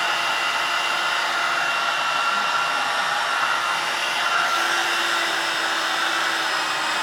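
Heat gun blowing hot air to shrink glue-lined heat shrink tubing, a loud, steady, continuous blower whine that holds an even level for the whole stretch, heard alone without talk.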